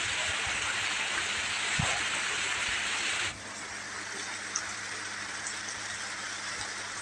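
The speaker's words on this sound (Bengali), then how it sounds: "বাইরে অনেকটা বৃষ্টি নেমেছে আর বৃষ্টিতে অনেক জলও হয়ে গেছে আর এখন প্রায় প্রায় বৃষ্টি হচ্ছে" Steady rain pours outdoors after a heavy downpour, a continuous broad hiss with a low patter, loud and unbroken throughout and dropping slightly in level partway through, with no voices.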